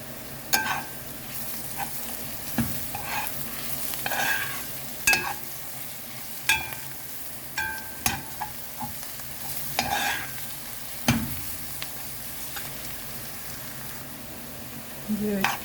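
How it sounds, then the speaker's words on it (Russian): Carrots for borscht fry and crackle in a pan, with repeated sharp scrapes and knocks from stirring at irregular intervals over a soft, continuous sizzle. "Морковку минут 5 обжаривали"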